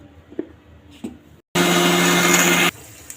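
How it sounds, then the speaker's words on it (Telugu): Mixer grinder blending tomato chutney with added water, a loud, steady whirring roar lasting just over a second, preceded by small clicks and knocks, close up. "అలాగే వాటర్ వేసేసుకొని ఇంకా గ్రైండ్ చేసుకోవాలండి"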